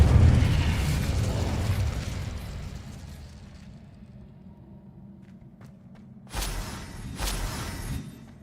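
Fire and explosion spells go off in Hogwarts Legacy, starting as a loud rumbling blast that slowly fades, followed by a few faint clicks and then two sharp, bright bursts near the end.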